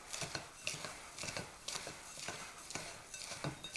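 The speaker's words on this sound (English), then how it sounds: "And then I just stir that in." A spoon scrapes and clatters around a bowl of homemade granola as coconut oil and honey are stirred through it, with rhythmic scraping strokes and soft clinks of the oats, close and steady, with no talking.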